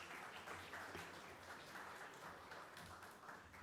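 An awards-ceremony audience applauding prize winners, a fairly quiet but continuous spread of many hands clapping, heard from some distance in a large hall.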